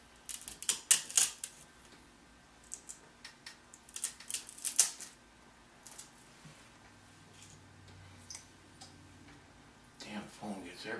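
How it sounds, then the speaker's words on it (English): Scissors or a blade cutting foam to make an ear opening on a costume head, heard as irregular bursts of crisp snipping and crunching clicks with quiet pauses, close and fairly faint. "Cutting away an area for the ear to go"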